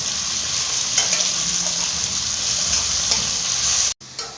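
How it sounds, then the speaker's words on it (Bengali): Potatoes fry in a pan with a loud, constant close sizzle and occasional stirring scrapes, cutting off abruptly near the end before resuming briefly. "এবার আমরা একটুখানি ভেজে নেব।"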